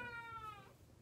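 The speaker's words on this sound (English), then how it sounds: "Sorry about that, that's my cat." A house cat gives a single short, rising meow, faint and slightly distant, lasting under a second with no talking.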